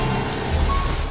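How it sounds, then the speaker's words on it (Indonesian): Heavy rain falls as a dense, steady hiss with a low rumble beneath, continuous and close for a brief moment. "Di tengah hujan yang masih cukup deras"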